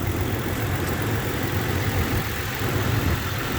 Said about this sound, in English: I mean, it's an engine, it's running super healthy